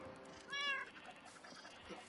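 A Minecraft cat meows once in a short harmonic burst near the middle, fairly clear over faint game background noise, with nothing else prominent.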